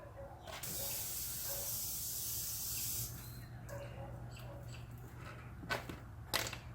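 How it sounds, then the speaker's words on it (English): A power washer sprays water in a first wash after a TopCoat F11 application: a loud, steady hiss for about three seconds, then quieter spraying with a few sharp bursts near the end. "It's going to get a little noisy because I got to turn this power washer on"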